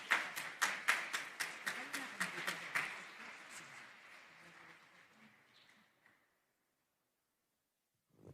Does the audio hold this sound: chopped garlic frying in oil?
no